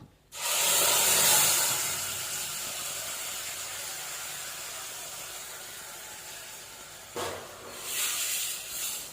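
Ground horse gram paste drops into hot oil with curry leaves, setting off a loud, steady sizzle that fades slowly over several seconds, then flares again briefly near the end as the pan is stirred.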